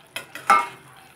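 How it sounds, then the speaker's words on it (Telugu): A few quick scraping stirs of spinach sesame curry, made with garlic, in an oily pan on the stove, three short strokes with a soft sizzle, close by and alone. "కొన్ని ఒకసారి ఇలా కలిపేసి అద్దుకోండి"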